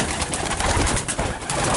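Breeding pigeons in a loft in Slatioara, Olt, Romania, cooing in a soft, continuous murmur of low throaty calls layered over one another, close by and steady throughout.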